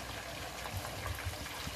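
Water poured into a pan of rice and seafood-and-meat stew, a faint continuous gushing splash lasting the whole moment.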